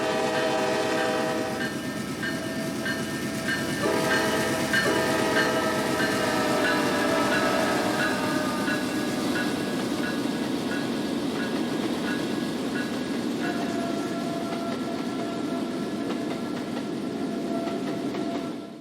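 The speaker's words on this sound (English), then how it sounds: "With a freshly rebuilt AC 4400 C6M leading the duo, the engineer has no problem pulling the short train through the turnout." A freight train led by a freshly rebuilt AC4400 C6M locomotive, with a BNSF AC4400CW second, rolls steadily through a turnout, a loud continuous rumble with sustained horn-like tones and rhythmic wheel clatter, no voices.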